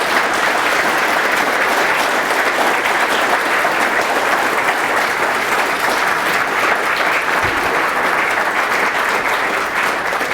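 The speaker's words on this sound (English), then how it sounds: "this is where you give the rapturous applause." A Ruby conference audience applauds at the end of a talk, dense sustained clapping from many hands, loud and even for about ten seconds with no pause.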